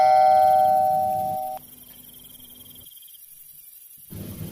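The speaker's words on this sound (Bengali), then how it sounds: "বাড়ির দরজার সামনে গিয়ে কলিং বেল বাজালো" A house calling bell rings at a front door, a clear electronic chime with sustained tones that change pitch and then fade into quiet night ambience with faint insects.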